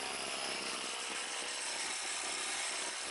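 A Craftsman string trimmer fitted with a TrimmerPlus edger attachment cuts a lawn edge, a loud steady high-pitched motor whine close by without pause or speech.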